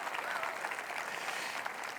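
Sustained audience applause fills a church service, a steady dense patter of many hands clapping at once with no gaps, moderately loud and even throughout.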